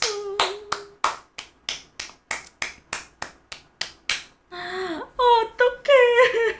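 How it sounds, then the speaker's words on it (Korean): About fifteen sharp, evenly spaced hand claps ring out close to the microphone, followed by excited high-pitched vocal squeals and cries. "여러분 박수"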